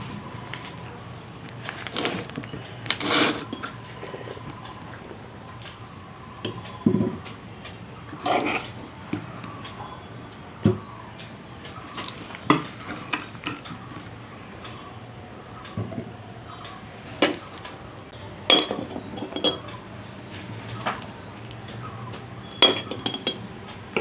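Glass bottles clink and knock sharply again and again against one another and against metal while being filled with sweet jujube pickle in a home kitchen, with scattered utensil taps between the louder clinks.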